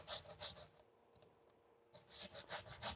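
A carrot rubbed by hand against a grater while making coleslaw, heard as close, rhythmic rasping strokes, a short pause, then another run of scraping strokes.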